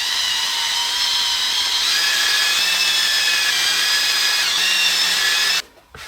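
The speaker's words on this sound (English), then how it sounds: "And using my drill and a buffer pad, we're going to work this in and see how we do." A power drill spinning a buffer pad to work resin into a children's artwork, a steady continuous whirring grind with a rubbing hiss that runs loud and unbroken for about five and a half seconds, then cuts out abruptly.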